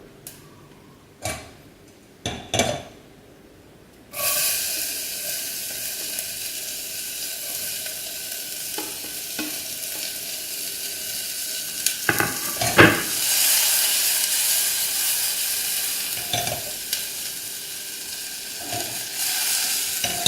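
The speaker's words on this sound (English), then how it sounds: "we'll just cook it for a little while until the onions are soft" Onions and carrot for South Indian uppuma: a few utensil knocks, then a loud steady sizzle as they hit the pan, continuing with occasional stirring clicks and scrapes.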